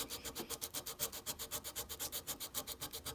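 Rapid, steady back-and-forth rasping of a sandpaper belt rubbed over a blob of excess solder, a close, even scratching rhythm with no talk.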